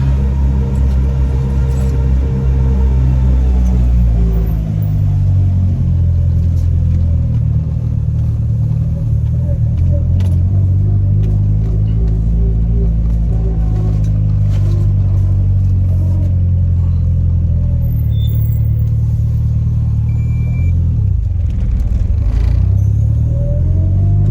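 A car engine rumbles steadily from inside the cabin while driving through a U-turn, a low continuous drone with mild rises in revving and no talk.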